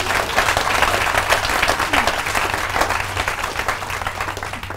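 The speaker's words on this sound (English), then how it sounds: "You can clap your hands." Audience at a business opportunity presentation in India clapping hands, a steady dense wash of applause sustained throughout, loud and close, with a low hum underneath.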